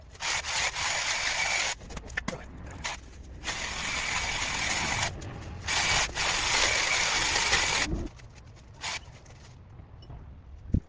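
Rough, rasping cutting and rubbing noises from trimming a bush at an abandoned playground, loud and continuous in long strokes broken by short pauses, with a quieter stretch near the end.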